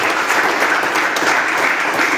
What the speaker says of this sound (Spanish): Y un aplauso para todos los profesores